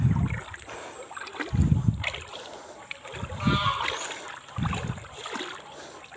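Footsteps slosh through knee-deep floodwater in a village, with rhythmic splashing surges every second or so, close by, alongside outdoor ambience and occasional voices.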